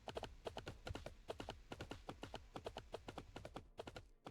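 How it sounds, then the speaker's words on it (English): Horses' hooves clip-clopping in the Warhammer 40,000: Battlesector video game, rapid rhythmic clattering beats, fairly close, continuous with no talk. "Sound like horses."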